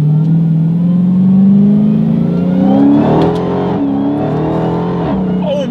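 A 2016 Dodge Charger SRT Hellcat accelerates hard from inside the cabin as its supercharged engine climbs in pitch and drops abruptly with each quick paddle shift, loud and close throughout.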